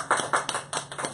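An audience at a cultural salon claps, with a handful of distinct claps spaced irregularly across a short, moderately loud burst and no voices over it.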